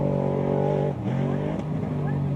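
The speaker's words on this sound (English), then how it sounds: "first truck off the line should be number 5 of Clyde Stacy" A Baja 1000 off-road race truck revs hard at the start line, a loud droning engine note that breaks off sharply and then climbs again, with a wash of noise from the crowd.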